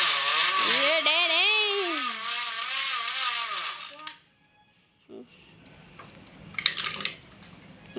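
A homemade bicycle rigged to mimic a Kawasaki motorcycle gives a loud, wavering buzzing drone for about four seconds. The drone then cuts out, leaving near silence broken by a couple of brief clattering bursts.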